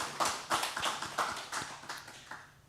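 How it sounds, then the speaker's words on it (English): A small meetup audience claps for the evening's presenters, a sparse handful of distinct hand claps in an uneven rhythm that thins out and fades toward the end, quiet and close. "Round of applause for those guys"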